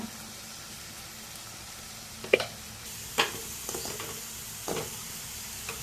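Potatoes sautéing in a home kitchen pan give a faint, steady sizzle with a few sharp scrapes and clinks from stirring, and no one speaks.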